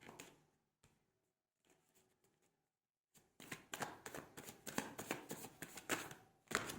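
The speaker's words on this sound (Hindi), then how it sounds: "मैं दोबारा शफल करती हूँ।" Tarot cards are shuffled close up in a quick, crisp riffling burst in the second half, after a few faint isolated card taps in near silence.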